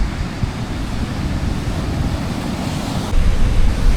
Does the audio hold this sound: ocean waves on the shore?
yes